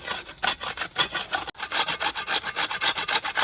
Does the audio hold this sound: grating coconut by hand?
yes